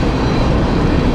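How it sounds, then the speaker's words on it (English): A train passes nearby in a steady, loud rumble heard from a bike commute, with no voices over it. "Train, train, train."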